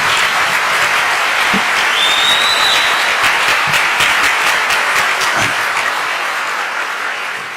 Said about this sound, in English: Would you just give them a wonderful round of applause?